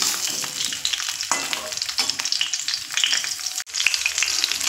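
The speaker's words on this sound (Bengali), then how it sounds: "নাড়াচাড়া দিতে হবে।" Mango pickle stirred and fried in hot oil, a loud, steady crackling sizzle with scraping stir strokes throughout and one brief dip near the end.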